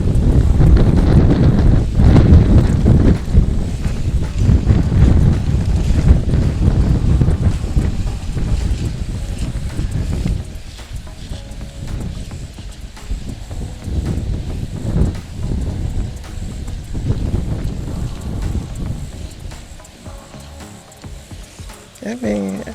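Hard wind gusting across a summer garden, rumbling and buffeting the microphone in a loud, continuous roar that eases a little toward the end, with a voice speaking under it.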